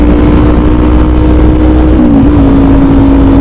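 A 2021 Kawasaki Z400 motorcycle engine pulls steadily at highway speed around 62 mph, a loud, continuous close drone whose pitch holds and then shifts slightly partway through, with no talking.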